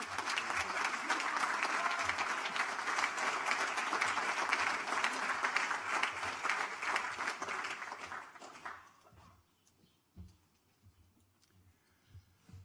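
Loud, sustained applause from a school commencement audience at Boys' Latin, steady for about eight seconds before tapering off into scattered claps and near silence.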